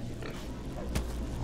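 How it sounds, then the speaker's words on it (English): A pig in the WildStar video game gives a short, close oinking grunt amid a faint background bed of game sound. "The pig's just going nuts."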